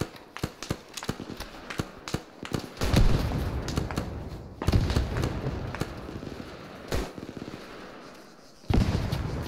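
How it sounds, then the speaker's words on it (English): Grenades thrown down a hill in a combat video game burst in a rapid string of sharp blasts and crackling pops, with a few heavier booms and short lulls between volleys. "I'm gonna chuck some nades down the hill."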